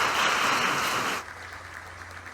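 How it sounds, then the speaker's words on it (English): Audience applause for officials at a Black History Month church music celebration, a dense wash of clapping that holds for about a second before cutting off to near silence. "So let's give all of our officials a round of applause"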